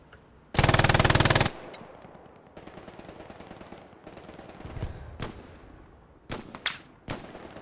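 An MG42 machine gun fires a loud, fast burst of about a second in a World War II video game set on Omaha Beach, followed by scattered distant gunfire and explosions.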